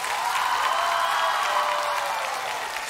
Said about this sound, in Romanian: Hai să aplaudăm omul